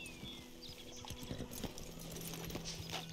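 Horse hooves clip-clop in an uneven rhythm through the Red Dead Redemption 2 video game, moderately close, over a busy outdoor game ambience with a steady low drone.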